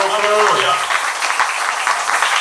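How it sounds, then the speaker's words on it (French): Church congregation applauding loudly for the Lord during a French-language sermon, a dense steady wash of clapping throughout, with a voice talking over the start. "Applaudissons fortement pour le Seigneur."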